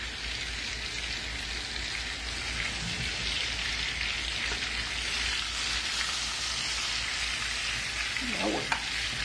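Hamburger steaks fry in a pan with a steady, dense sizzle close by, a couple of soft scrapes and thumps as the patties are turned, and no talking.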